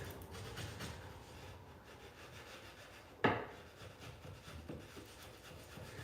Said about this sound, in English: we'll just take this and square up these edges. Get any extra drywall off this wood